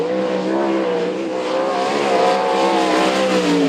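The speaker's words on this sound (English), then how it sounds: "Matt Butler in car number 71" A sprint car races at Archerfield Speedway, its engine a loud, steady, close roar that holds a continuous harmonic drone for the whole stretch with no talk over it.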